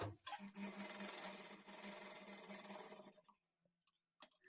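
A sewing machine stitches fabric in a continuous, fast mechanical whir for about three seconds, then stops, leaving near silence with a few faint clicks.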